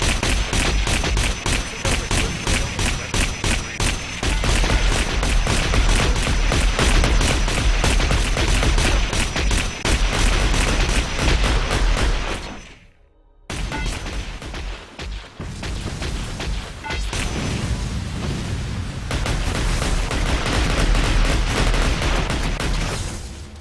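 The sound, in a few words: gunfire shooting bots in Heavy Gear Assault video game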